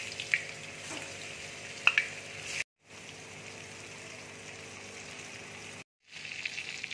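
Paneer pieces fry in hot oil with a faint, even sizzle and a few crisp pops, and the sound cuts out briefly twice.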